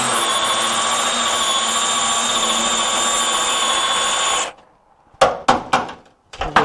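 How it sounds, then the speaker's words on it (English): A spot weld cutter in a drill boring out welds on a 1955 Triumph TR2 battery box, a loud steady metallic whine that stops, then several short bursts of cutting. "sometimes the spot weld cutter will cut it"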